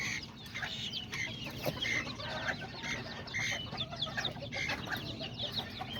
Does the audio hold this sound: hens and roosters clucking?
yes